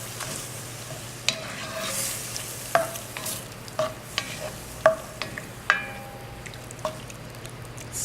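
A creamy sauce of evaporated milk and cream cheese for chicken and shrimp Alfredo simmers in a pan while a utensil stirs it, with soft bubbling under a series of distinct spoon clinks and scrapes against the pan.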